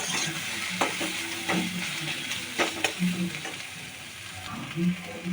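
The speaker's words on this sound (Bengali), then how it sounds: "আমি একটু তেল দিয়েছি আর দেখুন যতটা পারছি ভাজা ভাজাই করার চেষ্টা করছি" Eggplant slices frying in a little oil for a spicy egg-and-eggplant curry, giving a steady crackling sizzle with scattered sharp clicks and scrapes from stirring in the pan throughout.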